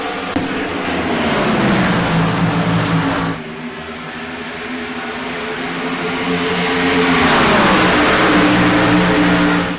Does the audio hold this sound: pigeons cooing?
no